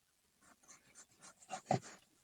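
Pencil shading lightly on paper, soft scratchy strokes in a loose rhythm that grow slightly firmer toward the end, close and quiet with no voices.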